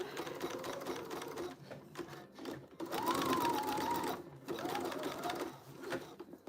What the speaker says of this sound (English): why are you not sewing right?